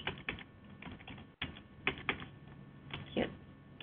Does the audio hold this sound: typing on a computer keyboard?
yes